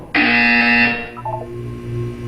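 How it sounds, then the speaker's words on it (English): A harsh electronic buzzer in the video game Portal 2 blares loudly for just under a second, then cuts off and leaves a softer tonal hum and background drone. "When you hear the buzzer, look down at the floor."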